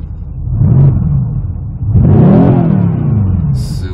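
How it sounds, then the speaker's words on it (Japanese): A supercar engine revs twice up close, a loud throaty rise and fall followed by a longer, stronger blip that settles back toward idle. "ちょっと吹かしてみて。"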